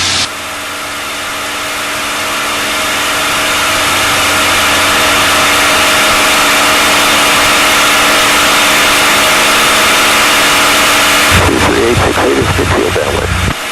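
A P-51 Mustang's piston engine drones loudly and steadily in flight, a continuous close roar from inside the aircraft, with voices becoming faintly audible under it near the end.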